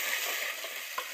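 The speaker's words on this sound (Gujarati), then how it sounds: "આ બધું થોડી કકડવા દઈએ મસાલો ડુંગળી ટમેટા ને બધું" Onion, tomato and masala frying in a pan for desi bharta, a steady close sizzle with light stirring scrapes and no voices.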